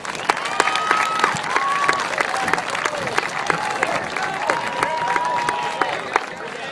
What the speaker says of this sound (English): applause for them. Let's go.